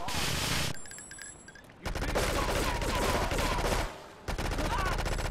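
Repeated loud bursts of rapid gunfire in Grand Theft Auto III, with dense rattling volleys broken by short quieter gaps, over a low background rumble.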